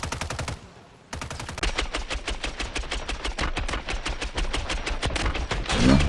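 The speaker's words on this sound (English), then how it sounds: "I'm shooting at this guy from off the hill." Rapid, sustained automatic gunfire from a Call of Duty Warzone match in ranked play, loud and continuous after a brief pause near the start, with dense repeating shots.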